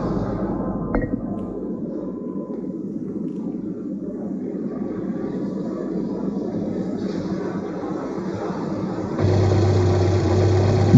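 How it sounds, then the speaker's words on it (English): A 1983 Volkswagen Golf II runs on a factory rolling road test stand. Its engine gives a steady, droning hum that rises in level and gains a firmer low tone toward the end. "On the rolling road, the car is checked under simulated conditions."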